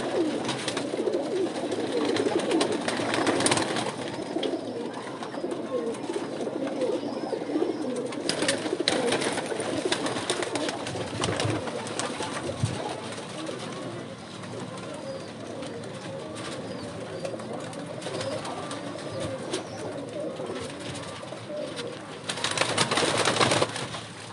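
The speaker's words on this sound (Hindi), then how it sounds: "ये भी दोस्तों क्रीज में है कबूतर।" Pigeons of a rare breed coo steadily in a loft, several birds overlapping in a continuous low throaty murmur with some louder bursts, no talking.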